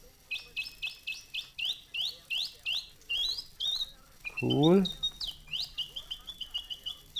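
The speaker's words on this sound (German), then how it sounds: "Mechanischer Vogel." Mechanical bird from the video game Ad Infinitum chirps in a steady run of short rising tweets, close and fairly loud, broken briefly by a lower squawking trill before the tweets resume; a voice speaks a single brief word.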